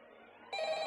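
A telephone rings in the VRChat horror map Purify, a brief, bright electronic ring that starts abruptly over faint background sound.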